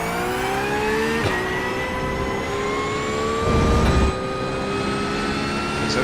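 A GT3 race car at full throttle on the Jerez circuit in iRacing, its engine holding a steady, loud, high-pitched wail with rising harmonics and a brief gear-change dip, heard alone.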